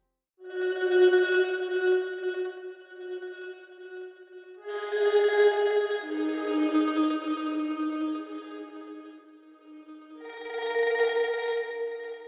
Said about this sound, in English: I used the granular mandolin tremolo patch in Omnisphere